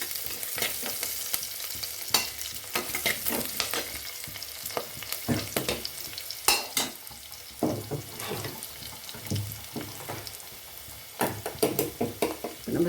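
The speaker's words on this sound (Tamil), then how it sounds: "வெங்காயம் கொஞ்சம் இந்த மாதிரி பெருசாக அரிஞ்சு தாளிச்சிக்கோங்க" Sliced onions tempering in a pan for a village-style tomato gravy (thakkali kulambu), a bubbling sizzle broken by sharp clatters and scrapes of stirring, close-up with no voices.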